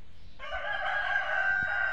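A rooster crows once, a sustained tonal call held for over a second, on a layer chicken farm at six in the morning on a cold, foggy winter dawn in Thakurgaon, standing out clearly over a quiet background.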